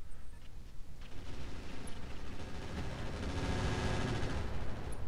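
A thermobaric explosion in the mech video game Roguetech, a dense, continuous roar of blasts and crackling rumble that builds louder over several seconds, with rapid gunfire-like bursts layered throughout.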